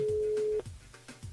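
A telephone line gives one long steady tone while a radio host calls a listener, followed by faint low ticks and muffled line noise.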